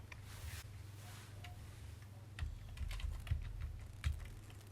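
Keys on a computer keyboard are typed as data is entered into a table in a letter, producing soft irregular clicks and taps with a few louder strokes, close and fairly quiet, with no talk.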